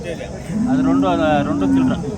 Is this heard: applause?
no